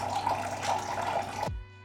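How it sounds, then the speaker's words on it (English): Hot water pours steadily into a bowl around bread dough in a continuous splashing stream, close by, then cuts off abruptly, leaving near silence. "Pour this hot water around your Poolish to separate from the bowl."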